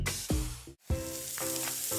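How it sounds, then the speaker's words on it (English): Small granules of Gain scent booster pour and rattle in short bursts into laundry, a brief pause between pours, close and crisp. "That's the sound of James adding long-lasting Gain scent boosters to his laundry this morning"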